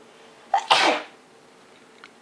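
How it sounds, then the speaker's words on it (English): A single loud sneeze up close, a short breathy intake followed by a sharp burst that trails off over about half a second, with quiet room tone and a faint sound near the end. "I feel like I need to sneeze. Yeah, I'm gonna sneeze."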